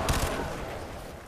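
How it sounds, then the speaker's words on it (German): Gunfire in Crysis 2 rattles as a short, dense burst of rapid shots, loud and close, running together into a sustained roar. "Auf wen schießt er denn?"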